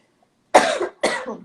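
Two quick, close coughs in succession, sharp and dry, with silence before and between them.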